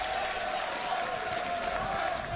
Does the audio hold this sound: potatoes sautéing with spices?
no